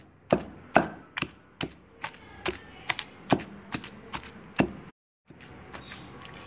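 Tamarind leaf chutney with garlic is pounded by hand, producing a series of about a dozen sharp, evenly spaced thuds at close range, broken by a brief silence near the end.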